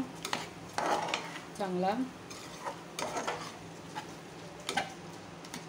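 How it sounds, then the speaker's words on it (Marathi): Rice being stir-fried in a pan for prawn biryani cooked in a pressure cooker, with spoon scrapes and light sizzling close by and a brief spoken word partway through. "राईसला पण परतून घेऊया"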